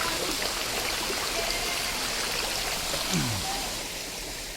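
Strong flowing stream water rushes steadily at an outdoor swimming spot, a broad continuous wash of water noise filling the whole stretch at close range, with no talking.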